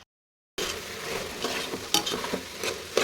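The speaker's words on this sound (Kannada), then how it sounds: "ಚೆನ್ನಾಗಿ ಒಗ್ಗರಣೆಲ್ಲೇ ಕಾಳನ್ನ ಮಗ್ಗಿಸ್ಕೋಬೇಕು." Hyacinth beans (avarekalu) sizzle in a hot tempering and are stirred with a spoon. After a brief silence, a steady crackling fry sets in, with a few sharper scraping strokes close by and no talking.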